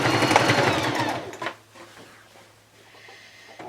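Close sewing machine stitching fabric for a headwrap, a loud steady whirring run for about a second and a half, then stopping, followed by quiet handling noises and a low hum.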